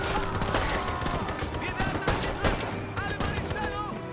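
Rapid bursts of gunfire trading headshots in the war shooter BIA3, loud and dense with sharp repeated cracks and overlapping shots, with voices audible in the mix.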